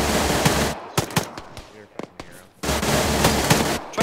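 Gunfire in an Arma 3 co-op firefight, with loud sustained automatic bursts at the start and end and a spread of sharp single cracks between them, some near and some distant.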